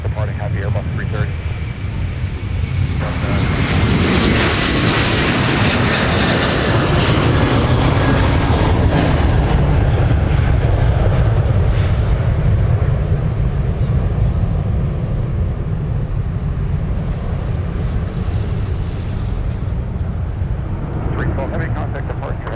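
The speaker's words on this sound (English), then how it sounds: "departing heavy Airbus 330" A heavy Airbus A330 jet takes off from a runway at Minneapolis–St. Paul airport. A loud, broad engine roar builds and holds for most of the stretch, then slowly fades.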